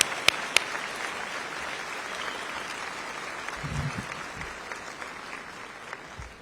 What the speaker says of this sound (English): Can you help me give them a round of applause, y'all?